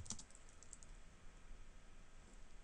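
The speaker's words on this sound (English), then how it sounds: "I'm going to type sudo apt get" Someone types a terminal command on a computer keyboard while setting up an Ubuntu web server. The keystrokes are soft and faint and come in a brief run, with a few sharper clicks near the start.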